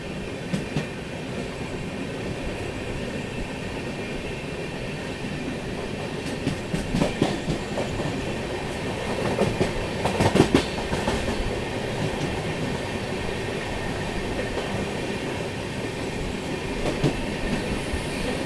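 Nagarsol-Chennai Central express rolling steadily along the rails, a continuous loud rumble with rhythmic wheel clatter and brief metallic squeals, heard from on board with no talk.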